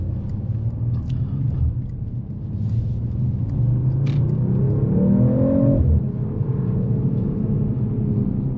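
A 2024 Mercedes-AMG CLE 53 Coupe accelerating, its engine building into a steady, loud rising rumble and whir that swells toward the middle and holds, heard from inside the cabin with no talk.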